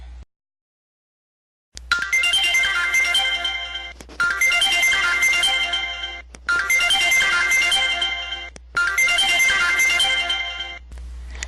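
A telephone rings in repeated electronic bursts, loud and close, four long rings separated by short gaps, with no voices over it.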